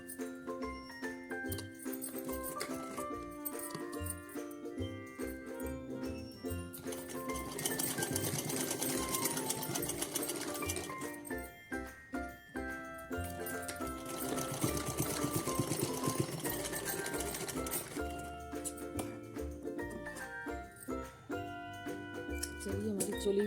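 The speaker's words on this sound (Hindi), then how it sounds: "अब हम दूसरी साइड भी सिल ले रहे हैं यहाँ पर" Electric sewing machine stitches lace onto a small choli for a Laddu Gopal (Kanha ji) deity dress, a fast mechanical whirring in two sustained bursts separated by pauses, close and steady, with a voice speaking at times.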